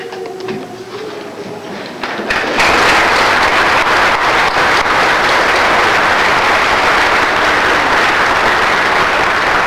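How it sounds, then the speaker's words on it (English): Family and friends stand and applaud at a 1999 high school graduation, the applause swelling suddenly after a quieter start into a loud, dense, sustained wash of clapping. "please stand for a round of applause."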